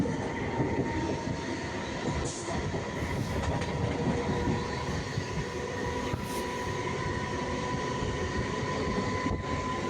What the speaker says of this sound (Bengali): আমরা ট্রেনে আছি